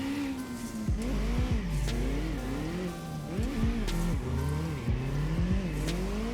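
A DTM 46 race car in CarX Drift Racing, engine revving up and down through the gears while drifting, with repeated rising whines and sharp drops as it shifts, plus tire squeal, loud and continuous.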